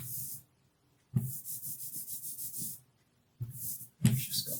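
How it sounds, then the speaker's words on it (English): An ink roller rolls over a linocut block in several bursts, each a close, sticky rasping pass with a rapid tacky texture, separated by brief silences. "I'm just tilting the roller there just to make sure that I've caught the edge."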